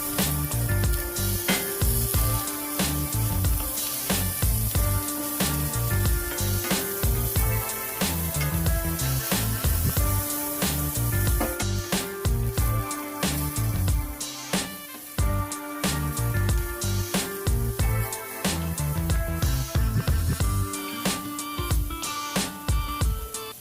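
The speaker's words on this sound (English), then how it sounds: "Saute onions for about 3 minutes, stirring occasionally until they get translucent." Onions sautéing in a tablespoon of oil in a skillet, a steady, loud sizzle with crackling pops throughout, punctuated by regular scraping and clattering of stirring, with no talking.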